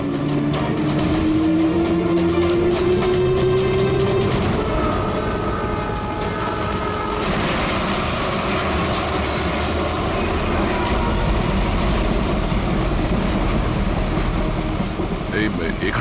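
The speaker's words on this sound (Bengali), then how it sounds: "চলো, ট্রেন ছেড়ে দিল, তাড়াতাড়ি" A train departing, with a loud, close rumble of rolling wagons and rising wheel squeal, rhythmic clickety-clack building as it pulls away, while people talk over the noise.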